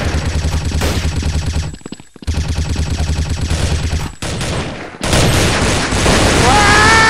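Rapid automatic gunfire bursts from the browser shooter Bloodstrike, loud and close, cut by brief silent gaps, then giving way to a denser, harsher stretch of shots and game effects near the end.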